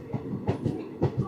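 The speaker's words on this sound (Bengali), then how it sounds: "সিগন্যাল হয়ে গেছে, ট্রেন ছেড়ে দিল" A local train runs on the Banihal to Srinagar line with a steady, soft clickety-clack of wheels on rail joints, rhythmic and moderately close, with no talk.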